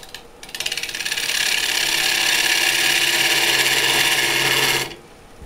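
A power saw cuts the end of a branch for a wood vase, a steady close rasping whine that builds after a brief start, holds for about four seconds, then stops abruptly.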